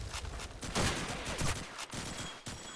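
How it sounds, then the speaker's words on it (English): Rapid gunfire and grenade blasts fill a Call of Duty 2 multiplayer match, with dense overlapping shots and a few heavier bursts in a continuous, moderately loud volley and no voices. "after the absolute maelstrom of bullets and nades"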